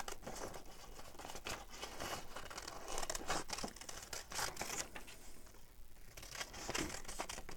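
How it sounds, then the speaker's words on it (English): Big scissors cut through paper up close, a run of crisp snips and crinkling rustles in an irregular rhythm, with no one talking. "I'm going to use my big scissors and then I'll do any fine details with my little scissors."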